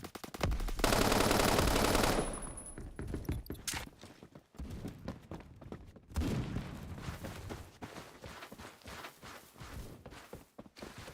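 Automatic gunfire rattles in rapid bursts in the shooter game Phantom Forces, a loud sustained volley followed by shorter clusters of shots and footsteps-like thuds, with no talking.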